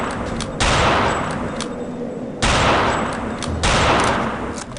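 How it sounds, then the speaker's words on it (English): Sniper rifle fired without a scope in the game Return to Castle Wolfenstein, three loud sharp shots spaced roughly two seconds apart, each with a decaying echo tail. "we're going to use the sniper rifle without the scope because we don't have one"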